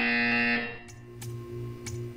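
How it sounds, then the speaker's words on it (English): A loud, steady electronic buzzer tone sounds in the Portal 2 video game, lasting about half a second, then several faint clicks follow over a low background hum. "You will hear a buzzer. When you hear the buzzer, stare at the art."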